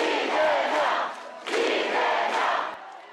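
Supporters of Democratic Party adviser Lee Jae-myung cheer at his press conference for a National Assembly by-election bid, a loud dense crowd roar in two long surges with a brief dip between.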